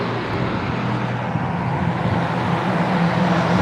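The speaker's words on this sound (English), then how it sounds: "You're going to hear that all day long, them big trucks like that." Big trucks on Route 61 in the coal region produce a continuous, even roar of heavy road traffic that stays loud and unbroken, with no talking over it.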